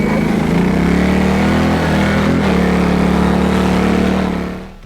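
Loncin XWolf 700 quad engine droning loud and steady while ridden on smooth ground in two-wheel drive, a continuous close motor hum that holds level then fades at the very end.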